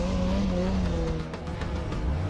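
A snowmobile engine revs loud and steady at close range as it strains to free a sled stuck in deep snow, the drone holding throughout with a slight dip in pitch.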